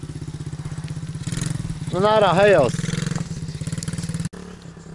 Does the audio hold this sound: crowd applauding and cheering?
no